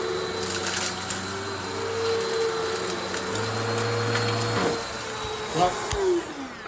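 Eureka Uno upright vacuum cleaner running on carpet, a loud steady motor whine with shifting hum and scraping as it passes over debris, continuous throughout.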